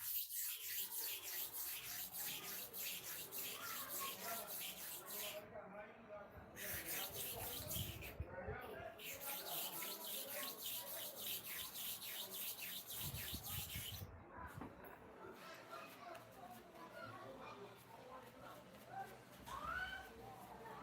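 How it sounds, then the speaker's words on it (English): A barber's upper clipper blade being sharpened with abrasive powder, faint repeated rubbing and scraping strokes in a steady back-and-forth rhythm, with birds chirping in the background and brief gaps. "Now I want to finish up the sharpening for the upper clipper blade."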